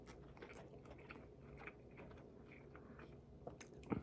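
Someone bites into and chews a Taco Bell Gordita Supreme with a soft, pillowy flatbread shell, giving close, steady mastication sounds and a sharper crunchy bite near the end.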